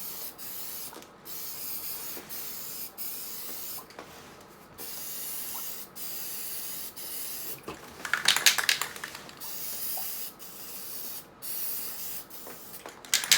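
An aerosol can sprays paint onto a 15-year-old Mercedes Sprinter steering wheel, giving a continuous close hiss broken by brief gaps and a louder sputtering burst.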